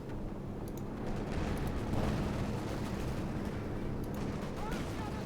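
Distant rumbling gunfire and artillery from an anti-tank gun striking a Panzer IV in the World War II strategy game Company of Heroes 2, a low muffled battle din with a few sharper blasts, under a commentator's voice.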